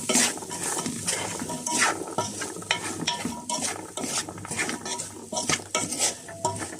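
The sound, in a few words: fried rice stirred and frying in a pan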